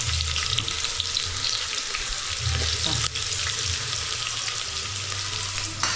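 Onion, curry leaves and cinnamon sizzle in hot oil for a mutton curry, a loud continuous frying hiss close by with a few stirring knocks, no talk.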